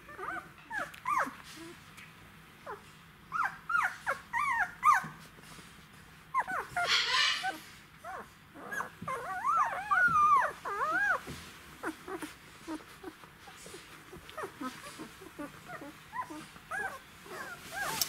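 Nine-day-old Czechoslovakian wolfdog puppies whimper and yip in short, high-pitched bursts, close by and fairly quiet, with little cries scattered throughout.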